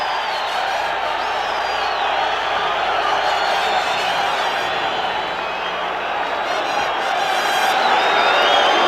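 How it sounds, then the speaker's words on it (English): Arena crowd at the Marvin Hagler vs. Roberto Duran middleweight title fight roars and cheers as the boxers enter the ring, a continuous, full wash of voices and whoops holding steady the whole time. "And listen to this crowd"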